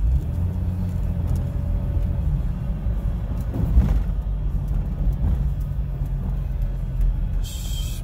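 A truck rumbles along at low speed with a steady engine drone while it turns around, with a brief louder thump partway through and a short hiss near the end.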